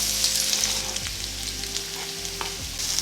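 Onion and a bay leaf fry in a tablespoon of ghee for red lentil curry, a strong, close, crackling sizzle with occasional spoon clicks from stirring and no speech.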